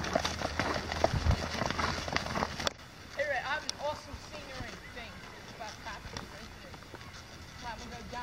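Horse hooves clip-clop along a wooded trail ride at McIntosh, an uneven patter of steps heard close and mostly in the first few seconds, with people talking over and after it.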